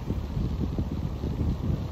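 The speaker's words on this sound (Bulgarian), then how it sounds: "Вятъра, както чувате сигурно, ни подкрепя, бушува, разчиства." Strong wind buffets the microphone in a continuous low roar with gusty rumbling and no other sounds.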